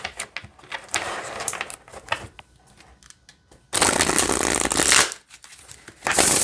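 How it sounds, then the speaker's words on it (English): Rapid papery riffling of tarot cards being shuffled, in several loud bursts separated by short quieter pauses, close by. "That's a really nice shuffle."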